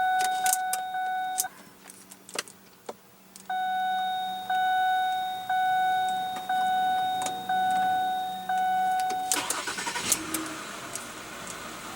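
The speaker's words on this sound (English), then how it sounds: "And what you're hearing there is a 3-liter V6 engine." A steady electronic chime beeps repeatedly inside a 2007 Ford Fusion, then its 3.0-liter V6 engine cranks and catches near the end, idling with a rougher rumble.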